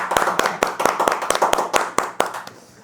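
A small congregation claps for a pastor at a church event, a quick run of sharp, fairly close claps at an uneven rhythm that thins and stops near the end, with no talk over it.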